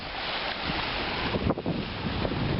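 Waves on Lake Superior on a sunny day, a continuous rushing wash of surf mixed with wind buffeting the microphone, fairly close and steady with no talking.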